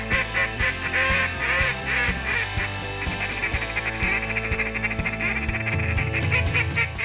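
Duck and goose calls are blown by a skilled caller while tuning up for a waterfowl hunt, a dense run of rapid quacks and honks in choppy rhythm, loud and close.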